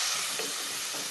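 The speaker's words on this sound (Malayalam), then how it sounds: "ഇനി നമുക്ക് തയ്യാറാക്കി വെച്ചിരിക്കുന്ന മുളക്, മല്ലിപ്പൊടി, മഞ്ഞൾപ്പൊടി എന്നിവയുടെ കൂട്ടും കൂടെ ഇതിൻ്റെ കൂടെ ചേർത്ത് ഒന്ന് നന്നായിട്ടൊന്ന് മൂപ്പിച്ചെടുക്കാം" Spiced onion and tomato masala with chilli, coriander and turmeric powders frying in a pan for Kerala fish mappas, a steady broadband sizzle and hiss without speech.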